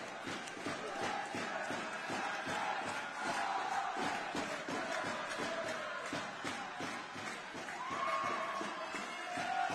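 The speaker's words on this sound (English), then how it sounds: "And listen to the home crowd now." Home crowd cheering and roaring after England equalise against Spain at 2–2 in a partially sighted football match at the IBSA World Games 2023. A broad, distant crowd swell rises and falls throughout.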